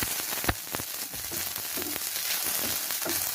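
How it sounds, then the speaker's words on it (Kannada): Sliced okra frying in a pan for a dry palya, a continuous close sizzle with occasional sharp crackles and stirring scrapes. "ಬೆಂಡೆಕಾಯಿ ಹುರಿಯೋದೆ ಇದರಲ್ಲಿ ಮೇಯ್ನು"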